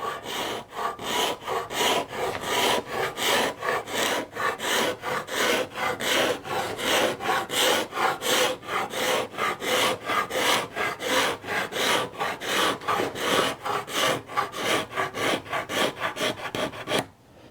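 A small scraper made from an old bandsaw blade is drawn repeatedly across a wooden frame, giving a steady rhythmic rasping of quick back-and-forth strokes close by, with no talking.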